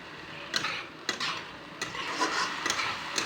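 Ginger and garlic are stirred in a pan in an Assamese home kitchen. A spoon scrapes close up at an irregular, roughly half-second pace over a low frying hiss, and no one speaks.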